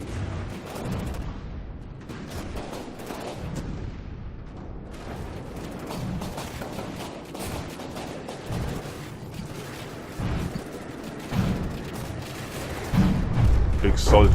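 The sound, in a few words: cram cannon fire and hits in video game From the Depths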